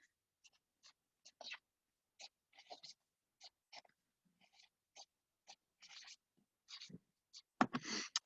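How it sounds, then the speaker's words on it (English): Writing an equation on a board, a series of short, quiet, separate strokes and taps in an otherwise silent room, ending with a slightly louder scrape. "So I'm going to write that equation right on our board."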